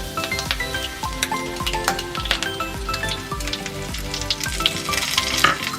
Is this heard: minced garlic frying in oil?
yes